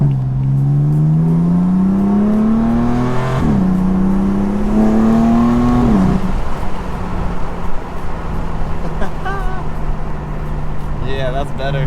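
A BMW M4 fitted with a VRSF intake revs hard, its engine note climbing twice in strong sweeps with turbo spool, then settling to a loud idle with some whirring; close and dominant.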